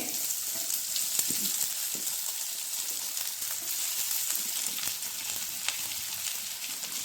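Cut patrode pieces fry with red chillies in a hot pan, a steady close sizzle with occasional stirring scrapes running throughout, and no voices.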